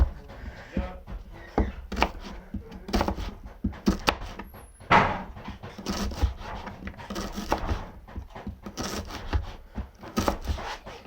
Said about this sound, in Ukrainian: Беремо цибульку. Ну не всю десь відрізайте половинку.